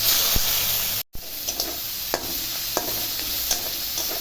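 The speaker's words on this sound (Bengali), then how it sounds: "পেঁয়াজগুলো এখন ভাজা ভাজা করবো" Onions stirred and fried in hot oil with dried chilli, bay leaf, cumin, cinnamon and cardamom, a steady close sizzle broken by scraping spoon strokes and a brief dropout.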